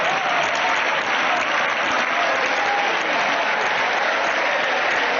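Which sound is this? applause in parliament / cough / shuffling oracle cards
applause in parliament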